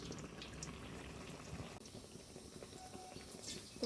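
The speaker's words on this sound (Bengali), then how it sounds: "বন্ধুরা এরকমভাবে সবগুলো ভেজে নেব।" Cauliflower fritters deep-frying in hot oil, a steady close bubbling sizzle with crackly pops running throughout and no talk.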